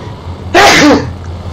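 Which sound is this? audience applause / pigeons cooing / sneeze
sneeze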